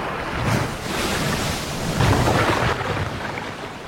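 Surf rolling onto a wide, nearly empty beach in warm water, with steady wind buffeting the microphone; continuous broadband roar with a slight swell around the middle, no voices.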